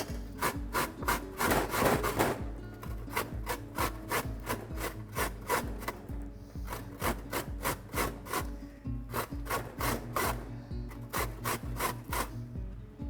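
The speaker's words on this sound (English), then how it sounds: "We're going to start by grating the carrots, and then we'll be grating the onions." Carrots being grated by hand for homemade chapati, a brisk rhythmic scraping against the grater with short repeated strokes in bursts and brief pauses, close and clear with no talk.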